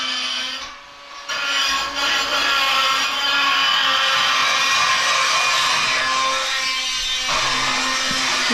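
Die grinder grinding out an old cracked weld on a Bobcat 873 skid steer, a loud sustained high-pitched whine after a short start-up, running steadily with slight load changes, no talking.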